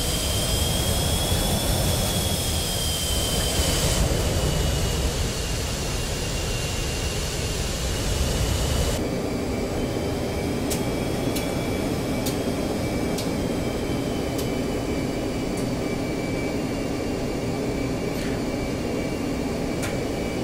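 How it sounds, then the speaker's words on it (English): F-15C Eagle jet engines in the DCS flight simulator, spooled up and taxiing toward runway 31 at Batumi: a steady, loud turbine roar with high whining tones that shift partway through, continuous and without talk. "good start on the engines and we'll taxi."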